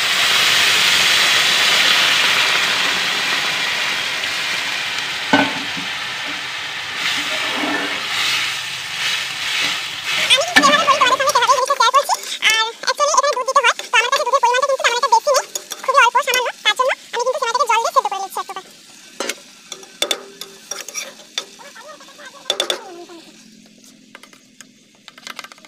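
Water poured into a pan of hot fried vermicelli sets off a loud burst of hissing steam and sizzling that fades into bubbling, with clinks of utensils and someone speaking afterward.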